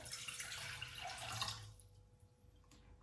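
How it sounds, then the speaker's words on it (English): Half a liter of water runs and splashes into a pot for about a second and a half, then stops, leaving quiet room tone before a brief clunk at the end. "Let's start with by adding half a liter of water to the pot."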